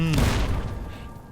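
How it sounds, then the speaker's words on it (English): Explosions in Fallout New Vegas going off in quick succession: a loud, close booming blast with a rumbling tail that fades out over about a second. "Double explosion."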